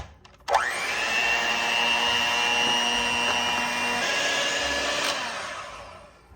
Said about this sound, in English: I'm gonna mix this up first